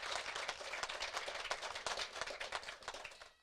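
A church congregation applauds, dense sustained clapping from many hands that fades slightly at the end.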